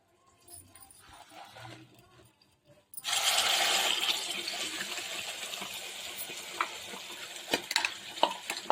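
Masala paste is dropped into a hot oiled pan for paneer curry with fennel and cumin, then stirred. A quiet lead-in breaks into a loud, steady sizzle with scraping and clinks from the spoon against the pan.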